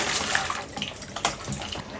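Water runs and splashes steadily, close by, like a tap flowing over dried shark fish being rinsed in a basin.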